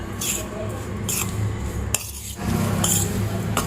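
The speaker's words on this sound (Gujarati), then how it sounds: "આ મરચાંને આપણે મસાલા સાથે એકદમ સરસ રીતે મિક્સ કરી લેવાના છે." A spoon scrapes and clinks against a metal bowl while green chilies are stirred into a spice masala for a chili pickle, in several close bursts of clattering separated by brief pauses.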